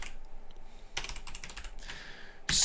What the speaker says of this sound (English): so we're gonna type cd, and then you're gonna type React